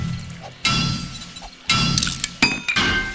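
Glass shattering in the survival game 7 Days to Die, several sharp crashes with tinkling shards in quick bursts over a low game ambience, close and loud.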